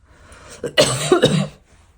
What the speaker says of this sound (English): I had to pause it because I had a coughing fit.